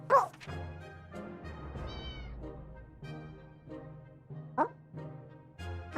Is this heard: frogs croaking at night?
no